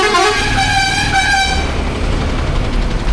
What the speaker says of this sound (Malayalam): എന്തിനാ വെറുതെ ഹോൺ അടിക്കുന്നത്